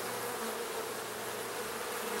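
Honey bees swarm around an opened hive that is being split, making a dense, continuous, close buzzing drone with no pauses and no talking.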